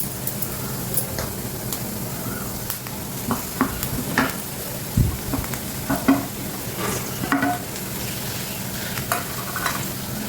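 Onions, green chilies and mashed potato sizzle and fry in a pan with steady stirring and occasional scrapes of a spoon against the pan, continuous and close with no talking.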